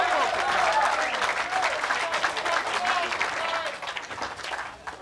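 A bowling alley crowd applauding a spare during a televised match, dense clapping and cheering that swells then gradually tapers, with voices mixed in.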